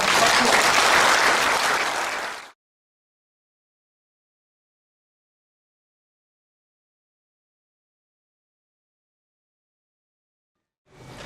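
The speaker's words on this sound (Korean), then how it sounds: "예, 박수 부탁드리겠습니다." Audience applause at a lecture on the Park Chung-hee era, a loud burst of clapping that lasts about two seconds and stops abruptly, followed by silence.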